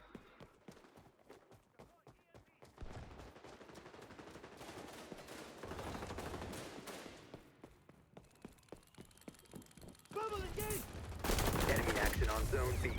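Rapid gunfire in the XDefiant shooter game, a dense string of loud shots and bursts that builds in intensity toward the end, with talking and game noise mixed in.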